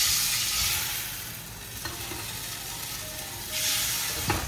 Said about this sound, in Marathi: तर आता हे तूप गरम झालंय छानपैकी, त्यामध्ये चिमूटभर जिरं.